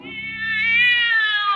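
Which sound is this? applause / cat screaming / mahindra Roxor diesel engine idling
cat screaming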